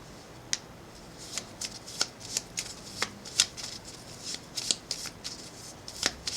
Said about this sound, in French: je m'arrête de battre les cartes quand on me dit stop